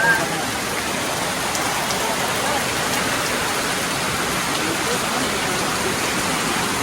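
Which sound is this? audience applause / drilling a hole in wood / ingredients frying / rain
rain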